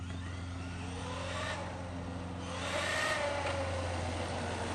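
A Traxxas Maxx Slash RC truck on a 3S battery whirs steadily, with an electric motor whine that rises and falls as it speeds up and eases off, sounding fairly distant.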